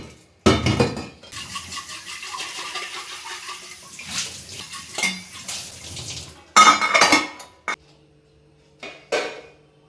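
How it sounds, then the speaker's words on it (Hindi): Dishes and bottles being washed in a kitchen with a large brush, running water splashes and clinking utensils in intermittent bursts, fairly close, no talking. "तो थोड़े थोड़े बर्तन होते हैं उनको धुल लेती हूँ"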